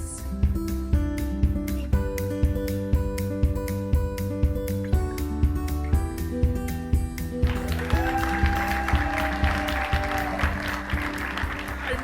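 On a children's art show, steady rhythmic clapping keeps time with upbeat music, each clap sharp and regular, running throughout the loud track.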